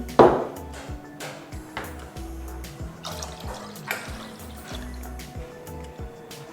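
Water pours steadily into a pot, a continuous splashing fill with a few clinks, close by and fairly loud.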